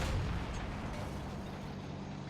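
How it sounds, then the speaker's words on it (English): Hetzer tank gun firing in World of Tanks, a muffled low boom at the start trailing into a steady rumbling wash of noise, moderately quiet. "The Hetzer's like shooting me"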